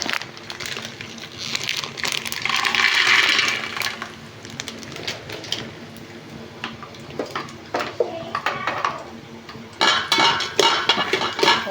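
Peanuts roasting in a pan with dried red chillies, with busy rattling, clattering and scraping of utensil on metal that swells and fades in bursts, fairly loud and close.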